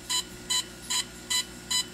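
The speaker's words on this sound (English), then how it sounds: "And it's gonna beep again" A DJI Phantom 3 drone emits five evenly spaced, short electronic beeps about every 0.4 seconds during a firmware update, clear and close with no talking.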